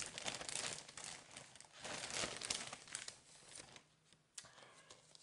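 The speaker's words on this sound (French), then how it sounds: "Je suis désolée pour le bruit de papier, je ne peux pas faire autrement." Close, soft paper crinkling and rustling from scrapbooking supplies being handled, continuous scrunching with brief sharper crackles, fading near the end.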